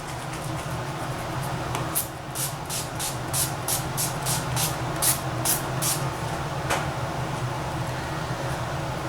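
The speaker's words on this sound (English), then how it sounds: "we're going to be spraying our face with this Urban Decay All Nighter Makeup Setting Spray" Urban Decay All Nighter makeup setting spray is misted onto a face in a series of about a dozen short, crisp, hissing spritzes in quick succession, close and fairly quiet over a low background hum.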